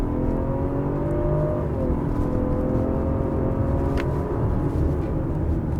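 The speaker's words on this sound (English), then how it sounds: "let's put the car in sport and let's feel those 457 horsepower" A Ford Explorer plug-in hybrid SUV with 457 horsepower accelerating hard in sport mode, heard as a steady rising engine drone and whir from inside the cabin, continuous and moderately loud, with no talking.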